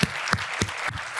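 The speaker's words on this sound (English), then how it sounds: "if we could just give a round of applause to our panelists" An audience at a conference panel session applauds the panelists, a short burst of clapping with distinct, evenly spaced claps standing out over the steady patter.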